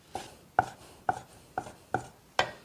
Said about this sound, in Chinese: 这个肉在剁之前一定要加入一点姜葱，给它一起宰